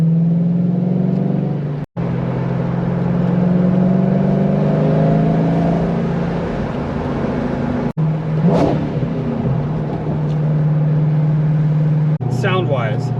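A Lexus GS400 V8 fitted with aftermarket headers, revving hard in a residential area, with a loud sustained engine drone that climbs in pitch, brief gaps where it cuts, and a voice heard faintly near the end.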